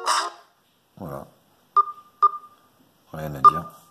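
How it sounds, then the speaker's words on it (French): Keypad tones from a Nubia M2 smartphone: two short, clean beeps stand alone between bits of speech, and a third beep lands under talk near the end. "Autre son, donc tonalité clavier"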